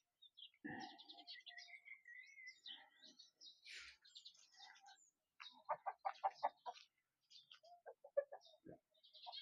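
Several chickens cluck and chirp in short bursts, close by, with a few scattered higher calls among them.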